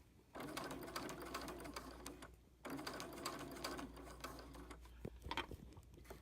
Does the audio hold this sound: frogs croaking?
no